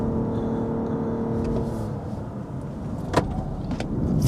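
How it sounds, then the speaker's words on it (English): A Lexus LBX pulls away under full throttle, a modest engine drone with faint whine and cabin road noise that swells slightly toward the end, punctuated by a brief click partway through. "Pick up speed. Full throttle here."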